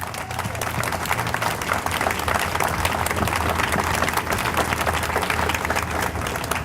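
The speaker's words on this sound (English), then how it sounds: "How about a big round of applause?" Audience applause for veterans at a cinema opening in Dallas: steady, dense clapping from a sizable crowd, loud and continuous throughout with no break.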